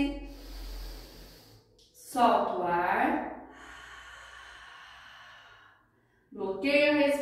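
Breath exhaled during a guided breathing exercise in an abdominal vacuum technique class, a soft hiss of air released near the microphone between louder spoken instructions.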